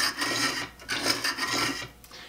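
A scraper blade is drawn along a sharpening stone set up with a roller on a workbench, giving close, gritty rasping strokes in a steady back-and-forth rhythm with no talking.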